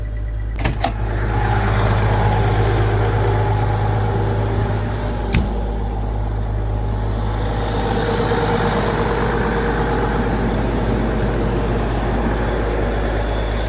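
Steady diesel rumble of a tractor idling in a field during November vertical tillage, loud and continuous from inside or near the cab, with a couple of brief knocks early on and no talking.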